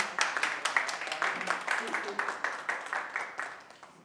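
Audience applause welcoming a guest at a play performance, a steady run of hand claps from a crowd lasting several seconds, with talk in the background.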